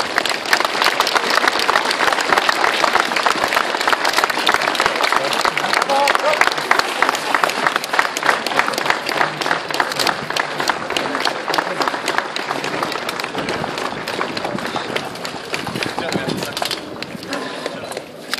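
Sustained crowd applause at an outdoor historical reenactment of the Jędrusie raid on Mielec prison, dense continuous clapping from many hands that carries on for the whole stretch and thins slightly toward the end.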